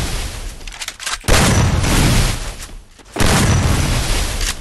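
Loud bursts of gunfire and booming impacts from the Free Fire video game as a wall is shot apart, two long sustained volleys separated by short pauses.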